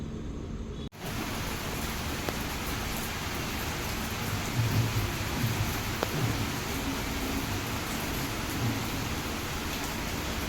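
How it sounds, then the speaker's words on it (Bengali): Heavy rain pouring down suddenly outdoors, a dense continuous hiss after a brief dip at the start, steady and fairly close with no voices. "এইভাবে জোরে জোরে নামলো বৃষ্টিটা"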